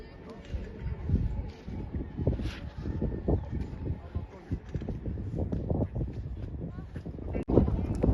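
Strong gusting wind on a ski slope in Ukhta, Komi Republic buffets the microphone in heavy low rumbling bursts, with some indistinct voices and movement underneath.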